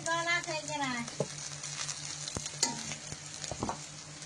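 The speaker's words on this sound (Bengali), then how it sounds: "আর কড়াইতে মাছ ভাজা তেলেই দিয়ে দিয়েছি পেঁয়াজ, ফোড়ন আর চেরা কাঁচা লঙ্কা" Onion, spices and slit green chilies frying in leftover fish oil in a kadai, a steady close sizzle with occasional stirring scrapes and clinks, while a voice talks in places.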